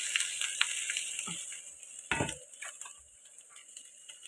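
Cut ivy gourd and potato sizzling in a hot pan, a soft steady frying hiss with a few light clinks and scraping stirs, faint and without talk.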